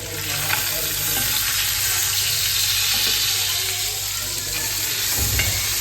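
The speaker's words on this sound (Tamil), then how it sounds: "மீன் இந்த அளவு நல்லா பொரிஞ்சிச்சு" Fish frying in hot oil for a Tamil meen kozhumbu curry, a steady dense sizzle and crackle running throughout with occasional soft stirring clinks, close and continuous, no talking.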